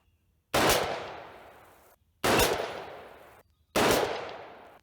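Three rifle shots of 60 grain V-Max reloads fired at a shooting range, each a sharp loud crack with a decaying echo, spaced about one and a half seconds apart.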